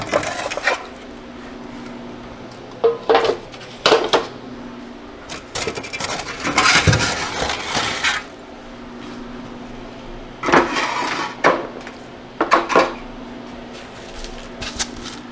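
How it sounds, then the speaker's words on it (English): Metal freeze dryer trays clatter and scrape in several separate bursts, loud and close, with pauses of quiet hum between them. "now I'll take them all out and get them onto the trays"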